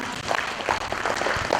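An event audience claps in a short burst of applause, a dense patter of hand claps that is fairly close and sustained for a moment.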